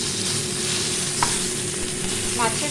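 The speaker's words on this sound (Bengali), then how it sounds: "এগুলোকে আমি খুব ভালো করে ভেজে নেব।" Fish head frying in hot oil in a pan, a continuous close sizzle with a couple of brief scrapes from a spatula stirring.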